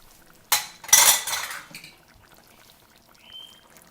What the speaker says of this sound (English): So in the prawns go with a little bit of the fluid left.